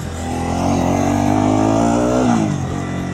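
An RS200 motorcycle on a night ride gives a steady, loud, plane-like humming drone, its engine tone rising slightly and holding before easing off near the end.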